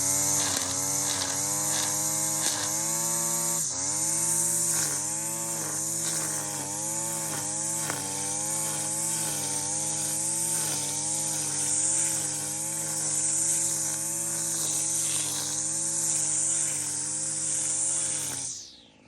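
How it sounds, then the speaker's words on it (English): String trimmer cutting weeds with its guard on and a long line out, a loud continuous buzzing whine that wavers slightly in pitch as the load changes, then cuts off abruptly at the end. "I can tell by the sound of the string trimmer how far my string is out"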